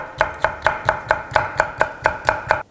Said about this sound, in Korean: 양쪽 끝을 잘라서 파프리카도 한 2분의 1기만 사용하면 될 것 같아요. 채 썰어주세요.